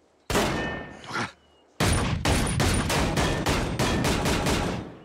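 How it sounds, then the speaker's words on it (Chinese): Gunfire in a film scene. A sharp volley is followed by a pause, then a rapid string of about ten loud shots in steady rhythm, with no speech over it. "把你们的子弹从那问号的点里打过去"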